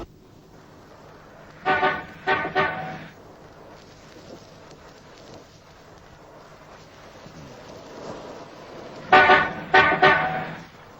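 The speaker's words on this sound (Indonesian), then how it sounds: "Kode klakson menunjukkan bahwa dia Merpati Biru." Car horn sounding a signal code at night: two groups of three short toots, the first about 2 seconds in and the second near 9 seconds, loud and alone over a faint background.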